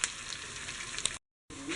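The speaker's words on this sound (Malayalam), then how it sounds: "ഇതൊരു ചെറിയ ഗോൾഡൻ കളറാകുന്ന വരെ ഇളക്കി കൊടുക്കുക." Sliced onions sizzle in a pan with a pinch of salt while being stirred toward golden, a close, steady frying hiss with a short silent break near the end.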